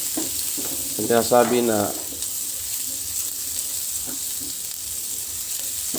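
Garlic and a little ginger sizzle in a frying pan for adobong pusit, a steady close hiss throughout, with a short stretch of talk early on.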